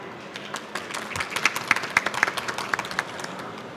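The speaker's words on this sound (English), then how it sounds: "can we have a big round of applause for Vitalii" A conference audience applauds session speakers at a quantum finance event, with scattered, fairly close claps that build into a brief burst and then settle into a steady patter, with no voices over it.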